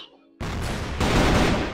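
Gunfire aimed at a box in an online shooter game: after a brief quiet moment, a loud sustained burst of rapid shots starts abruptly and grows stronger, close and dense.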